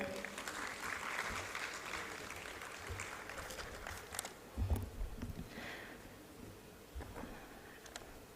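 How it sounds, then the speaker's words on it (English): An audience at a startup competition final applauds, a moderately faint, steady wash of clapping that carries on for several seconds. "I would like to request everyone to give a huge round of applause for Dr. Sambhu Pokhrel."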